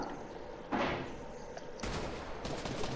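Gunfire in Fortnite cracks out in two clear bursts, one near the start and a longer rattling volley later, set against a low, constant game background with no talk.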